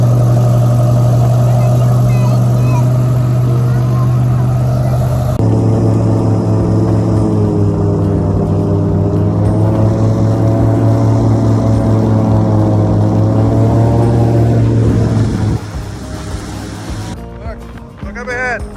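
A loud, steady airboat engine roar drones close by, shifting pitch midway before winding down near the end.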